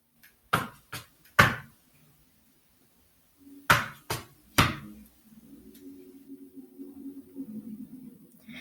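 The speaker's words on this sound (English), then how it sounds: "Three components: touch, heel dig, toe drop." Tap shoes on a hard floor performing closed thirds (three-count riffs): two crisp groups of three quick touch, heel dig and toe drop strikes, close and fairly loud, then a low hum underneath.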